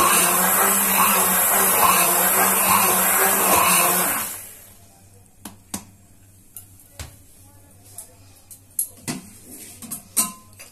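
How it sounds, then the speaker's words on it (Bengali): A hand blender whirs loudly and steadily while blending a banana smoothie for about four seconds, then stops abruptly and gives way to near quiet broken by scattered light clinks and taps. "আমার হ্যান্ড ব্লেন্ডার আছে, তাই হ্যান্ড ব্লেন্ডার দিয়ে দেবো।"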